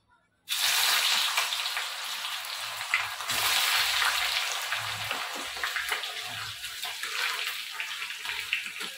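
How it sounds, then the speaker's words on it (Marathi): Long-sliced onions deep frying on high heat until reddish, a loud, dense crackling sizzle that starts abruptly and holds strong throughout, close and without voices. "आता आपण लालसर रंगाच्या होईपर्यंत तळून घेऊया"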